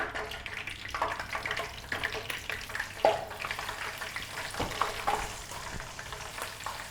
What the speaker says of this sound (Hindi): ऑयल को हमने गर्म कर लिया है। अब हम इसमें भिंडियाँ शामिल करेंगे।